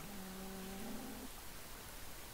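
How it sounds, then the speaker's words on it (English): A cow moos once in a video game, a short low tonal call fading after about a second, then only soft background hiss. "I hear a cow."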